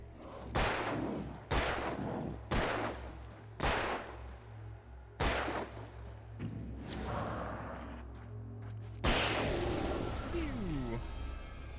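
Gunshots from a gun in the Alan Wake game: a series of sharp, loud single shots spaced roughly a second or two apart, with a voice speaking in between and a final louder blast.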